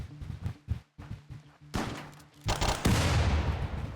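Video game gunfire from a firing line, rapid overlapping shots in bursts that build into a dense, loud volley.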